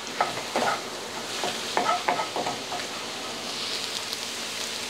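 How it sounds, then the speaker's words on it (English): Eggs stirred in a hot pan for a breakfast burrito sizzle softly while a spatula scrapes and taps in short bursts, then the frying settles into a quiet, even hiss. "So we put our eggs in, stir it up."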